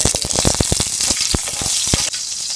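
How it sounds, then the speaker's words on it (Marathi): Oil and butter sizzling loudly in a pan used for cooking mushroom butter masala, with a dense, bright frying hiss and a quick run of close crackles and pops, steady throughout. "त्याच पॅन मध्ये जरा तेल आणि बटर टाकू।"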